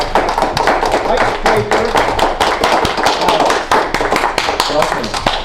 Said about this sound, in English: Aleks, please come up and a round of applause for